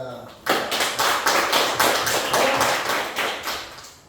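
After a brief spoken moment, a biology class breaks into rhythmic group clapping, loud, close, evenly spaced beats continuing steadily to the end.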